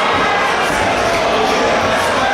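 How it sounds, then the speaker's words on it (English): A wrestling crowd in Portland, Maine roars continuously after a main-event winner is announced, a dense, loud wall of cheering and shouting with no pauses. "Listen to this crowd."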